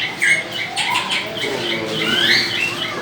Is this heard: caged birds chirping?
yes